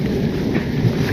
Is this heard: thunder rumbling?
yes